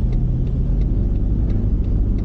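A taxi pulls away and drives on in Tokyo, its mid-pitched engine hum and low road rumble running steadily and close, with faint regular ticks above and no voices.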